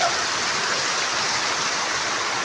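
Heavy monsoon rain in Karnataka outside a hotel, a dense steady roar of downpour filling the scene evenly from start to finish, loud and close with no voices.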